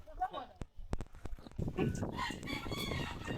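Chickens on a trail run route in Minglanilla, with a rooster crowing and clucking at a middle distance. Several sharp clicks and footsteps come first, then the crowing carries over steady outdoor noise.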